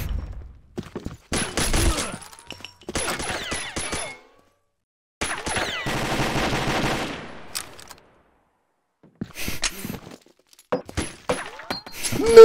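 Gunfire from the online shooter Combat Arms, loud bursts of automatic fire and single shots in uneven clusters separated by brief silences, with thuds and breaking sounds mixed in.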